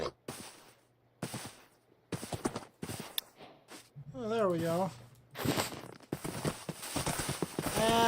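Hooves clip-clop in short bursts as a horse moves in the Minecraft video game, with a whinny in the middle and a person talking between the steps.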